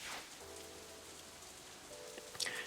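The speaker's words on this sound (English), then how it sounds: "I feel the first drop of rain land on the back of my hand." Soft steady rain patters in the Katawa Shoujo video game, a quiet continuous wash of drops with faint tonal game ambience underneath and no voices.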